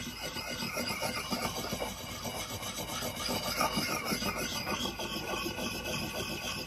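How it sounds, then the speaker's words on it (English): An axe bit being polished on a Belgian Blue whetstone, a steady close rasping rub with even back-and-forth strokes running throughout, fairly quiet and with no talking. "So we're gonna polish it maybe a 1/4 inch back off the bit, and then kind of blend that in."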